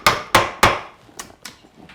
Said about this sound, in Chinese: 我把孔里也灌一些胶，接着就把竹钉给敲下去。